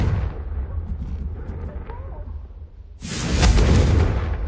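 A Confringo blast spell cast in Hogwarts Legacy bursts in loud and sudden about three seconds in, a broad fiery explosion that keeps roaring to the end, following a quieter stretch of game ambience.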